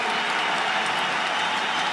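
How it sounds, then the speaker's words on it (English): Crowd applause filling the arena after a Glory 89 heavyweight kickboxing fight between Uku Jurjendal and Badr Hari, a dense, steady roar of clapping and cheering held at constant loudness throughout. "you can see the crowd appreciating this fight."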